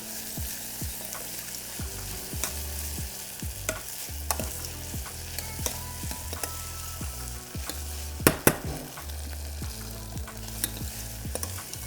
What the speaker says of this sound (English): So we'll get that boiling away and reduce right down